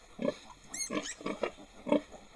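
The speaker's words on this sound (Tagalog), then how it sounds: "bibisitahin natin itong bagong panganak na baboy ng kapatid ko, Jessa Tewata." A sow that has just farrowed a litter of ten piglets gives a string of short, close grunts in irregular bursts, with a brief higher squeal mixed in, no talk heard.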